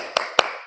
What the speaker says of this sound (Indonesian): ayo kita sama-sama tepuk semangat.